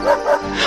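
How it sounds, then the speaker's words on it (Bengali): A cartoon dog gives two short, close yipping barks in quick succession, followed by a fainter whine. "ওই তো কুকুরটা ডাকছে,"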